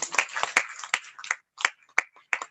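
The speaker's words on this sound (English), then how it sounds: "a round of applause for you." A few people clap for a speaker in an online Zoom meeting, sparse, uneven claps with gaps between them, close to the microphone and separated by silence.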